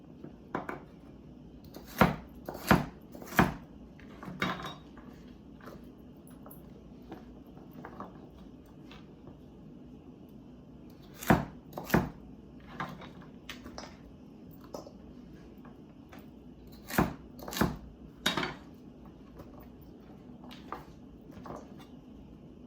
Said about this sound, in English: this is how I'm going to be cutting my carrots